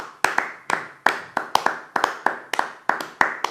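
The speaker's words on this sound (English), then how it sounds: "Clapping is in order." Small group of delegates clapping after a vote at a model UN session, a sparse, close round of sharp individual claps in an irregular rhythm.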